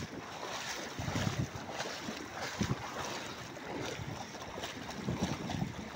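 Floodwater rushing and churning toward village houses, a steady broad roar with splashing surges and gusty wind buffeting the microphone, close and continuous.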